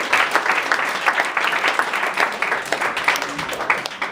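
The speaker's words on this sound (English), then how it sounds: "So round of applause for her" Members at a club meeting break into lively applause, with many hands clapping close and loud in a thick, uneven patter that carries on throughout.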